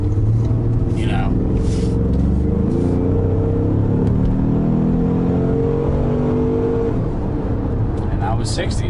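A 2018 Ford Explorer Sport accelerates hard to 60 mph. A steady, loud engine drone with rising tones and road rumble is heard from inside the cabin.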